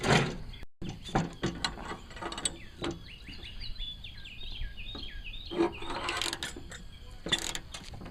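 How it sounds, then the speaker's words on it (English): A ratchet with a deep socket loosening two 9/16 bolts on a Craftsman LT1000 cutting deck idler pulley, heard as close clicking ratchet bursts mixed with metallic clinks and handling noise. "You're going to need a deep socket."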